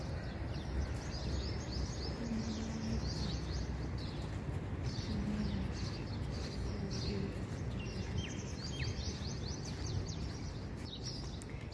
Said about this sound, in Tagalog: Dami kayo mga ibon.